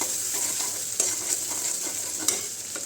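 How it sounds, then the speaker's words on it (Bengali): A tablespoon of ginger-garlic paste fries in a hot pan while a spoon stirs it, giving a constant bright sizzle with several sharper scrapes and knocks against the pan, close and without talk. "এখন আমি আদা রসুন বাটা 1 টেবিল চামচ দিয়ে দিলাম, দিয়ে আবার একটু নাড়তে হবে।"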